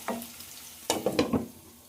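Bitter gourd pieces fry in a pan and get flipped with a spatula, giving a few sharp scraping clatters over a quiet, steady sizzle.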